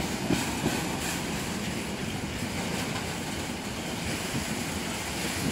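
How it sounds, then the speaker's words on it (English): A freight train carrying spare rails passes at Taunton with a steady rumbling roll and faint rhythmic wheel clatter, holding an even loudness throughout with no voices. "There we go then, our first freight train."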